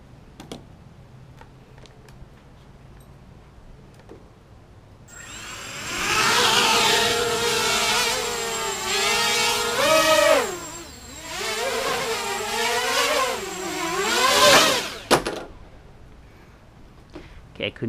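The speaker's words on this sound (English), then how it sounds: "let's go full throttle" Small ZMR250 racing quadcopter's motors spinning up to full throttle on a home deck, a loud rising whine with wavering pitch that holds for about nine seconds before cutting off, with quiet surroundings before and after.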